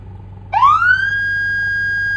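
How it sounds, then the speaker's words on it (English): A manual police siren in Roblox starts abruptly and sweeps upward into a loud, steady wail that holds to the end, alone over a low background hum. "So here's the manual siren."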